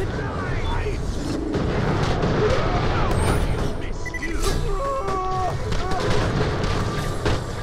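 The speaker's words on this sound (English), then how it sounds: "this is also the grenades that I'm using" Grenade blasts and gunfire in the shooter game Borderlands: The Pre-Sequel, dense overlapping booms and crackling bursts with electronic effects, loud and continuous throughout.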